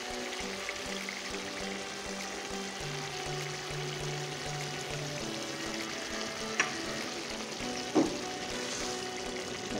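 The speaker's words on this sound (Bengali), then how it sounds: "এখানে মশলা কষানো হয়ে গেছে এখানে জাল উঠে গেছে একেবারে আমি দিয়ে দিব বেগুনগুলো" Brinjal (eggplant) pieces fry and get stirred in a spice masala for begun posto curry, giving a steady, even sizzle throughout with a couple of sharp utensil clinks near the end.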